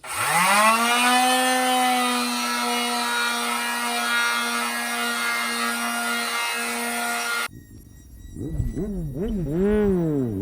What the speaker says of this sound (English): So we now have 150 on the sander, and here we go.